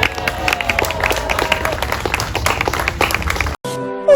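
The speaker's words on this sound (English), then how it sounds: "I think she deserves a huge round of applause" Applause and clapping ring out from a crowd at a live magic show, continuous and loud for several seconds before cutting off, followed by a brief burst of music or a tonal sound.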